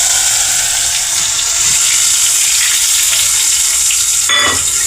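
Cumin, tomatoes and onions hitting hot oil, giving a loud, steady hiss of frying with a brief clatter near the end.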